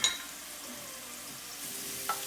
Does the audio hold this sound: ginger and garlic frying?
yes